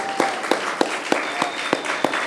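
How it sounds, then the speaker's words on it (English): Live podcast audience clapping at a filmed show, a crowd's steady applause with a few sharp louder claps standing out at regular intervals, close and fairly loud with no talking. "Special round of applause to you guys for coming through,"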